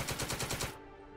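Rapid burst of tank gunfire from a Matilda tank in the Second Front wargame, about six evenly spaced loud shots over most of a second, then cutting off into a quieter low hum.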